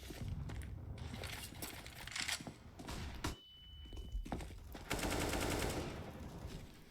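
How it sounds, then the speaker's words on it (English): Gunfire and metallic mechanical clatter from a Counter-Strike match, including Desert Eagle pistol shots, come as a busy series of quick faint reports and clicks. "He's fired off a shot to slow him down"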